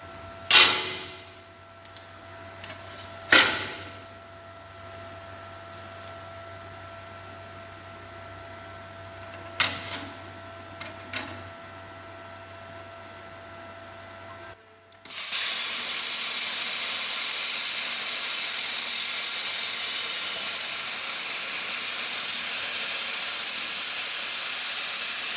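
An Arccaptain CUT55 Pro plasma cutter slices through 1/8-inch aluminum with a loud, steady, close hiss that starts abruptly after a stretch of quiet shop hum and a few sharp clicks.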